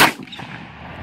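An Adler A-110 shotgun fires one loud, sharp blast at a Coca-Cola can, and a short echoing decay follows with no talking.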